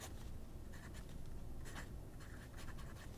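A scratchy fountain pen nib writes on paper, a close, continuous dry scratching with short strokes and pauses, alone and fairly quiet.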